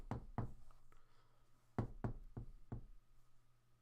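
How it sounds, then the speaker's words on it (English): Someone knocks on a door in two series of firm raps, a quick double knock followed by a pause and then four evenly spaced knocks, close and hollow, with no talking. "There's a knock at the door."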